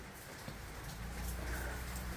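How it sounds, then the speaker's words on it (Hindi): Steady rain falling in Aizawl, Mizoram, a soft, even hiss that holds for the whole stretch and swells slightly toward the middle, with no voices over it. "यहाँ पर अभी भी आप देख सकते हो कि बारिश हो रही है"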